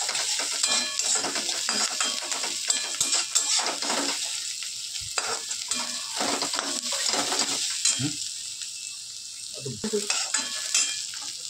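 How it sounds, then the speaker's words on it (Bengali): Vegetables stir-fried in a pan with chicken and egg for Hakka noodles: loud continuous sizzling with frequent scraping spatula strokes and clinks against the pan, close up, with no voices. "ভেজিটেবলটাকে এখানে নাড়িয়ে চাড়িয়ে নিচ্ছি"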